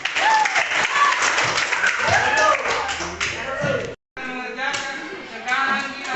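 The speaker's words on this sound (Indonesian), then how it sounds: "tepuk tangan untuk kelompok tiga" Students applauding a presenting group in a classroom, loose clapping mixed with children's chatter and shouts, breaking off briefly before more voices continue.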